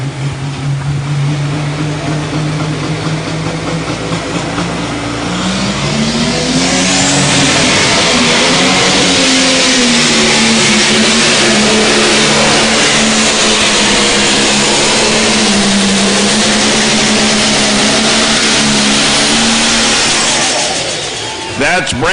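Pro Stock pulling truck engine roaring loud and close at a truck and tractor pull in Sandwich, Illinois, a sustained bellow that climbs in pitch and holds at full throttle for about twenty seconds, then cuts off.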